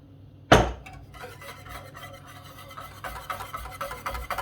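A pan of coconut raspberry flan mixture on the stove, opening with a sharp metallic clink of utensil on pan, then soft continuous scraping and stirring that grows busier toward the end, with no talk.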